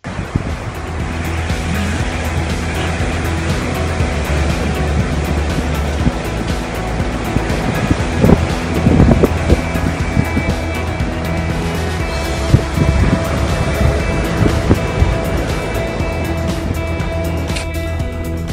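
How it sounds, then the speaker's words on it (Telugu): Sea waves along the Barbados island shore in the West Indies make a steady, loud wash of surf throughout, with a low rumble that could be a passing car or boat motor blended in, and no talk. "ఇక్కడ సముద్రం ఎప్పుడూ ప్రశాంతంగానే ఉంటుంది"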